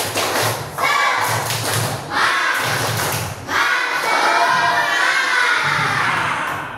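Schoolchildren in a classroom perform a rhythmic clapping chant, loud close bursts of unison claps and thumps in patterned groups, mixed with excited young voices shouting along.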